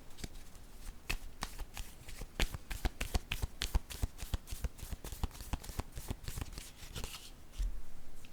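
A deck of playing cards is riffled and shuffled repeatedly in a quick, crisp run of close flutters that keeps on for several seconds with no talking.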